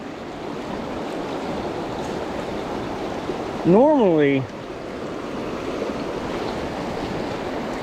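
Pocket water in a trout stream rushes steadily around rocks, a broad continuous close wash; someone briefly speaks over it midway.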